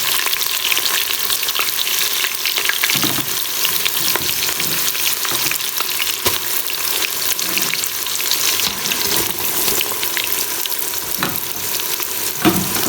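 Onions frying in desi ghee in a pan for Karachi-style beef chana dal: a steady, loud, close sizzle runs throughout, broken by occasional stirring scrapes and clicks.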